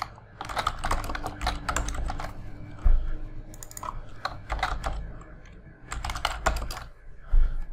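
Someone types a name on a computer keyboard in quick bursts of close, crisp key clicks, separated by brief pauses.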